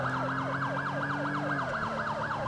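An ambulance siren wails in a fast repeating yelp during a chase in GTA 5 on PC, loud and close over a steady engine hum, with no voices.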